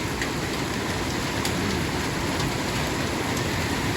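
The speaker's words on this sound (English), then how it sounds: "I don't even know if you can hear me because the rain hitting this porch roof" Heavy thunderstorm rain mixed with sizable hail drums on a porch roof in May 2024, a dense, loud, unbroken roar close by, with occasional sharper hail impacts standing out and no voices.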